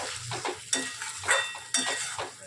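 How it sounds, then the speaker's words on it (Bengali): Potatoes sautéed in a pan during Bengali home cooking give a crackling sizzle, with a spoon stirring and scraping the pan in short repeated bursts close by. "এখানে আলুটা কষাচ্ছি।"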